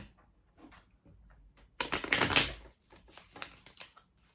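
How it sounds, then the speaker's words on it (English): Close, crisp rustling and riffling of tarot cards being shuffled, a busy flurry in the middle with lighter clicks and taps before and after. "I'm having a hard time shuffling"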